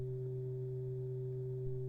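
A synthesizer oscillator waveform bent into a concave shape by a Q155 curver module, a steady, sustained buzzy tone with a low fundamental and strong harmonics, holding unchanged throughout.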